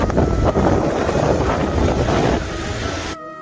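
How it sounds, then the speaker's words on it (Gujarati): Strong sea wind buffets the microphone on the southern Indian coast at Rameshwaram, a steady loud roar with surf and water rumble underneath, easing slightly before cutting off abruptly at the end. "તમે આ દરિયાઈ પવન જોઈ શકો છો।"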